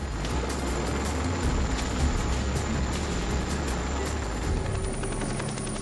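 Steady, dense rotor-and-engine roar of a military helicopter, loud and continuous throughout with no talking.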